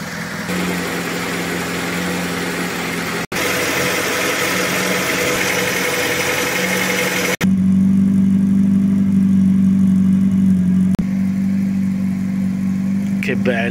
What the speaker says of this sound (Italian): il motore gira benissimo, non fa nessun rumore strano